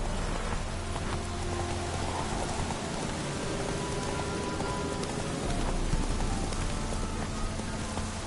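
Roach the horse gallops in a PS4 video game, its hoof clip-clops running steadily under a dense rain-like wash of ambient noise, with no voices.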